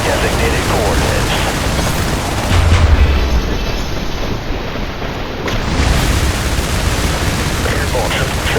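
Airstrike explosions and gunfire from the video game IS Defense: dense, loud, continuous battle noise with heavy low booms swelling around the middle and again later, under constant crackling fire.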